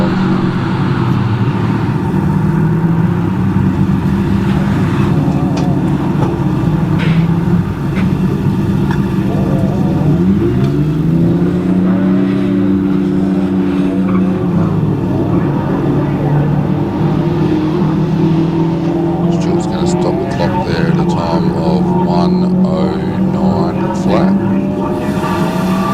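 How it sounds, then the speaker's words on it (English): A Subaru WRX race car climbs a hillclimb course past the punch bowl toward the top. Its engine note drones and swells with rising and falling pitch sweeps midway, and voices and crowd noise sound alongside. "WRX making its way to the top of the hill."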